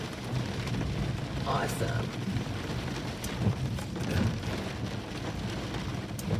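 Rain falling during a storm with high winds and lightning, a constant dense patter with rumbling low noise, close by and fairly loud, with a brief voice in the foreground.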